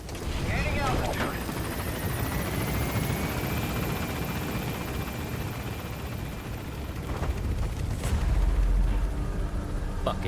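Helicopter gunship in Metal Gear Solid V, a continuous rotor and engine drone with a few sharp bursts and a heavy boom near the end, under talk.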